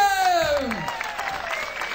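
Applause from a crowd at a live Dutch music gig by a band, a broad wash of clapping that starts loud and fades under a falling tone and a voice.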